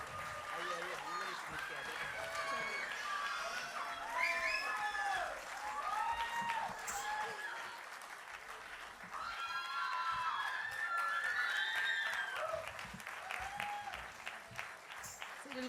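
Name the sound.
audience applauding after a Kathak dance performance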